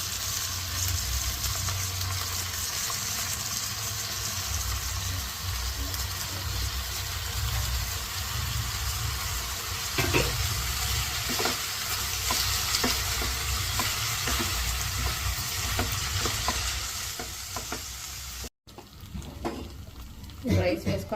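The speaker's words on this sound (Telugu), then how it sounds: "రైస్ వేసుకొని బాగా కలిపేసాం కదా." Washed rice being stirred into frying chicken joint pieces for dum biryani, a steady close sizzle with repeated scraping stir strokes that continue throughout, briefly cut near the end.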